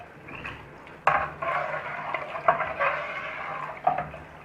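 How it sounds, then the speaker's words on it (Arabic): A spoon stirring a thickening Egyptian bouza mixture in a pot, with scraping and occasional sharp clinks against the pot, close and steady, with no voices. "نفضل نقلب فيها لغايه ما نوصل للسمك اللي احنا محتاجينه"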